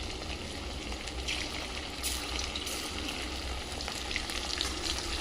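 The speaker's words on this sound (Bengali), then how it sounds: "এই মাংসগুলো একটা একটা করে ভেজে নেব।" Chicken pieces frying one at a time in hot oil for garlic chicken, a dense, continuous close sizzle with a faint bubbling wash and no voices.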